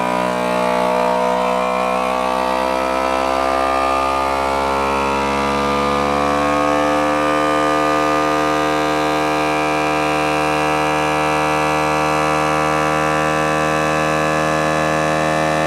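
A FoodSaver vacuum sealer motor drones steadily with a strong harmonic whine, running continuously and loud, its pitch shifting slightly partway through.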